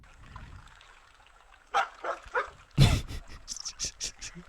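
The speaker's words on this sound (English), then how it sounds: "river running, and then a dog barks several times" AI-generated river and dog scene: a soft water trickle runs low under the opening, then a series of dog barks bursts out, one loud close bark followed by several quicker, sharper yips near the end.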